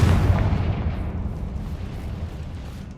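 A Confringo fire spell blasts in Hogwarts Legacy, a loud booming explosion that hits at once and then fades into a long, low rumbling tail with no talking over it.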